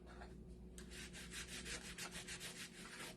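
A cloth rubs and buffs surface wax onto whitewashed wood in quick, repeated back-and-forth strokes, close and fairly soft, with no voice.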